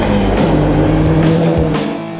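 Turbocharged classic rally car on a stage rally, engine roaring loud and close at speed with a steady harsh drone, briefly easing near the end.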